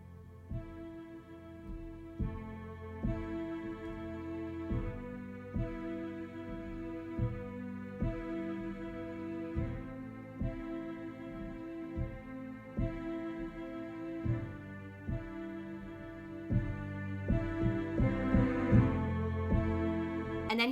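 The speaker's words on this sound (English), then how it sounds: "I just changed my setting to strings and check out what it sounds like." Digital piano set to a strings voice plays a film theme, sustained string-like chords with a soft pulsing repeated note and a gradual swell near the end, quiet and with no speech.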